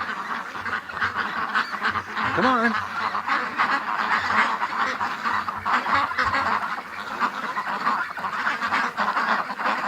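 Ducks quack and honk in a busy, overlapping chorus close by while being herded into a pen at night, and a man briefly urges them on.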